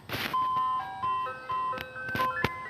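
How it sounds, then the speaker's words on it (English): An ice cream truck's chiming music-box melody plays steadily in tonal notes, with brief sharp bangs and street noise breaking in over it. "the ice cream truck,"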